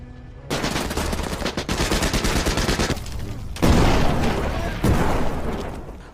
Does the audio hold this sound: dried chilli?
no